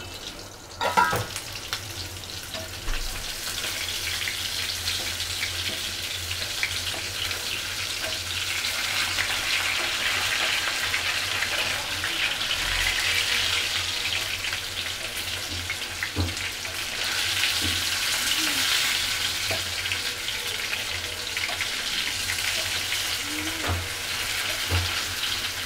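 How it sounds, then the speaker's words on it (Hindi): Potatoes frying in a pan of oil for kachhey gosht chicken biryani, a continuous close sizzle with bursts of crackling, spiked now and then by a few clatters of stirring. "आलू हमारा फ्राई हो रहा है"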